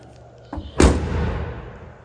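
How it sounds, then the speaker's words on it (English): The hood of a 1972 Ford Mustang Mach 1 drops shut with a single loud, deep slam, preceded by a softer thump, with a brief echoing decay afterward and no talking. "Let's go ahead, lower this hood."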